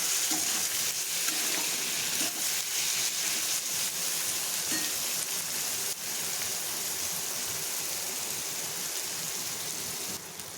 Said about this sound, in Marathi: आता टोमॅटो टाकून ते सुद्धा आपण परतून घेऊया त्याच्यामध्ये